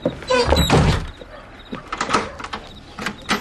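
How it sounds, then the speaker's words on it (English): Door being locked in an old radio drama, a few close thunks and clicks of wood and latch, followed by small scattered rattles, with no talking. "Let me lock the door."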